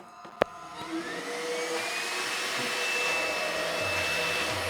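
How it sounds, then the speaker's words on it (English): A cordless vacuum cleaner switched on and used vertically, with a click and then a steady, loud motor whine that rises slightly in pitch and holds alone. "now I can vacuum vertically"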